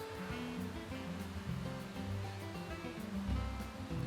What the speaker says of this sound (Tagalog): So, to get rid of the diaphragms, I'm going to strain the mixture.